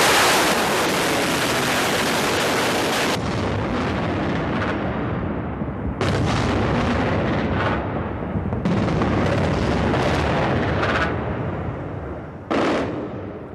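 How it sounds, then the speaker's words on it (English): Missile strikes and explosions in the heart of Baghdad at the start of the Iraq war, a loud roaring wall of blast noise and rumbling fire broken into several long bursts separated by sudden cuts, with no voices. "the start of the war on Saddam, missiles hitting the heart of Baghdad."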